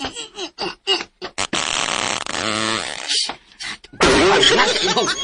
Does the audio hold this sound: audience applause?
no